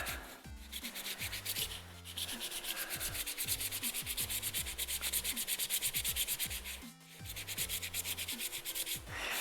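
Steady, close-up sanding on a helmet's hard surface, a continuous abrasive rasp with rhythmic strokes and a brief pause partway through.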